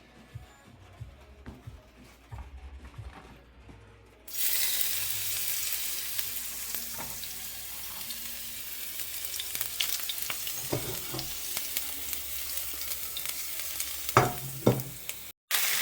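Spinach tartlet filling fries in a pan, with a loud, steady sizzle starting a few seconds in after quieter handling noises, and occasional clicks of stirring.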